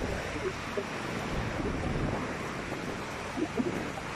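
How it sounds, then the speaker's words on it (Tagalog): Moderate surf rolling in at Bagasbas Beach, a steady broadband wash of breaking waves with wind noise over the microphone and faint scattered sounds, continuous throughout. "katamtaman lang yung alon"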